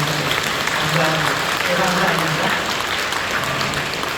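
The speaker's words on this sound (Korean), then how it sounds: "뜨겁게 박수로 환영해 주시면 감사합니다" A church congregation claps warmly to welcome first-time visitors during a Sunday service, a steady, dense wash of applause lasting several seconds with some voices mixed in.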